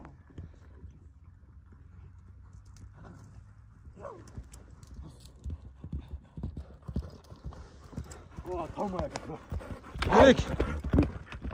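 Hooves of a white horse clip-clopping in a steady rhythm close by, with a dog barking and people talking and calling out over the footsteps.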